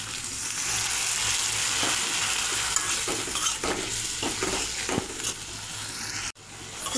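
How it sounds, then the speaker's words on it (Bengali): Spice paste of turmeric and coriander powder mixed with water hits fried bean seeds in a pan, giving a loud continuous sizzle with stirring scrapes, then a sudden drop near the end. "সিমের বিচিটা ভাজা হয়ে গেছে, এখন গুলে রাখা মশলাটা দিয়ে দেব।"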